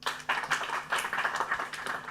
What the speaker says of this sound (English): I want the audience to clap for you